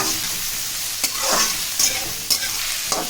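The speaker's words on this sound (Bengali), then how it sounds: "তেল গরম হয়ে গেছে লঙ্কা পেঁয়াজ সহ সব সবজিগুলো দিয়ে দিলাম সবজিগুলো একটু তেলের সাথে ভেজে নিচ্ছি" Chopped vegetables with chilli and onion fry in hot oil for homemade chow mein, giving a steady close sizzle broken by several brief stirring scrapes.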